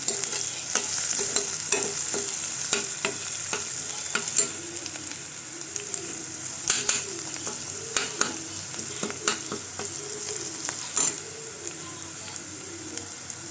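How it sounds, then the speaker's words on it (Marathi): Onion frying in a pan for brinjal potato curry, a constant bright sizzle with regular spatula scrapes and taps through the whole stretch, near and without talk. "कांदा आपण भाजतोय, लाल व्हायला द्यायचं."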